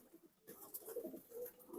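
Pigeons in a backyard coop give soft, low, rolling coos, faint and close, repeating in short murmuring phrases over quiet background hiss.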